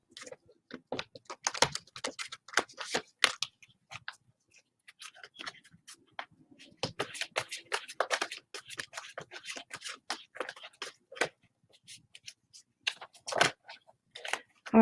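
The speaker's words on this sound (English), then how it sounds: "Divine Film, let me shuffle the cards to get the energy off" Tarot cards being shuffled by hand: quiet, close bursts of papery riffling and tapping come in uneven clusters separated by short pauses, with no talking.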